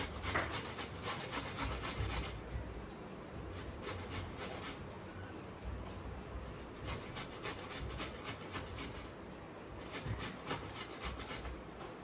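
Red pumpkin being grated gives a steady, close rasping scrape in repeated strokes.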